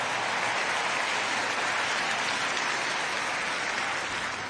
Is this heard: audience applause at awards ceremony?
yes